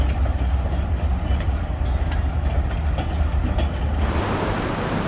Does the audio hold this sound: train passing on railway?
yes